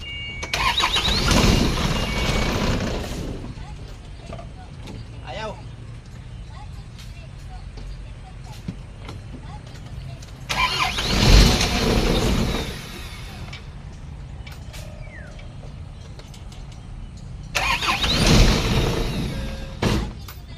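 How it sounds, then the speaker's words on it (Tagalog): A van with an Isuzu 4HF1 diesel engine cranked and started while in gear with the clutch pressed, three loud bursts of engine noise separated by quieter idling stretches, with a person talking between them. "start natin nakakambyo nakaapak yung clutch"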